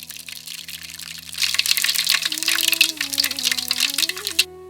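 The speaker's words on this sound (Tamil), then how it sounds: "கொஞ்சம் கடலை எண்ணெயை இப்போ பாத்திரத்தில் ஊற்றிக்கலாம்." Groundnut oil pours into a large cooking pot in a splashing, gushing stream that builds after a quiet start and then cuts off, with a low steady hum underneath.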